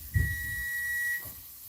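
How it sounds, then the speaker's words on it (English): A kitchen timer goes off after bread finishes baking, giving a single sustained electronic beep of about a second, moderately loud, following a brief thump, with no talking. "It's your timer"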